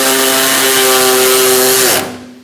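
A power tool runs loud and close with a steady whine while tightening a starter bolt on a 2002-2006 Honda CR-V, then stops abruptly near the end.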